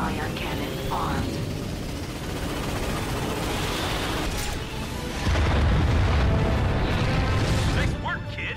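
Starwatch ion cannon explosions in the Ratchet and Clank movie game: deep booming blasts and rumbling detonations layered over ongoing battle noise, swelling louder in the second half while a voice speaks over the action.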